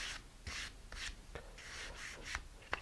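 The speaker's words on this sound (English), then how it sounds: "my sandpaper is angled just a little bit, and I'm working from the back edge towards the front." Sandpaper rubbing along the trailing edge of a tail fin, a close, quiet rasp in short regular strokes of about half a second each, with a few light ticks between them.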